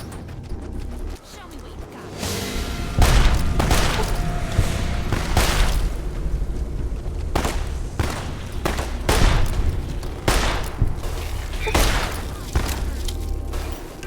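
Gunfire in modded Fallout New Vegas, with repeated loud shots and heavy bursts cracking at irregular intervals across the wasteland, a voice talking over them.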